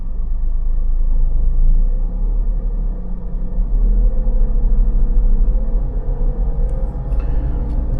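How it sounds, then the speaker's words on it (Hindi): A three-cylinder car engine rumbles steadily while driving, a low continuous drone with slight rises in pitch as the car pulls along, heard from inside the cabin without talk. "मैं चला रहा हूँ इस गाड़ी को"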